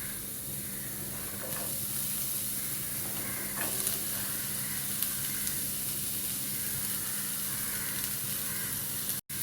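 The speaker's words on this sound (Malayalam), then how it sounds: "2 മിനിറ്റ് നേരം നമുക്ക് ലോ ഫ്ലെയിമിൽ ഒന്ന് നമ്മൾ ക്യാരറ്റും ബീൻസും ഒക്കെ ഒന്ന് വഴറ്റി എടുക്കാം." Chopped carrots and beans sauté on a low flame with a quiet, constant hiss and sizzle. A few faint stirring scrapes sound in the background.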